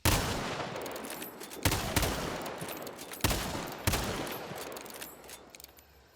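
Rapid gunfire from an 1865 Carbine in the game Hunt: Showdown, four loud, sharp shots spaced roughly a second apart over a continuous rumbling background din, with no talking.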